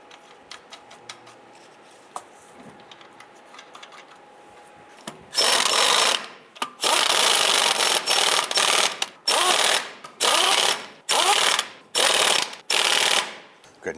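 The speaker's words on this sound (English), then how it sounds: "Once all of these are on, we're going to go ahead and snug them down." Ratchet tightening the lug nuts on a 1995-2001 Ford Explorer rear wheel: quiet shop ambience first, then a run of loud, rapid clicking bursts in repeated strokes with short pauses between, close and alone.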